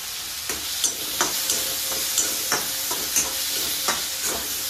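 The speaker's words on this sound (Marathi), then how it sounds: "अद्रकचे तुकडे पण टाकून घेऊ, लसूण कळ्या पण टाकून घेऊ आणि हिरव्या मिरच्या पण यात भाजायला टाकून घेऊ" Onion, ginger pieces, garlic cloves and green chilies fry in a pan for a Punjabi-style kofta curry, giving a steady close sizzle broken by regular scraping stirs about every half second, with no talk.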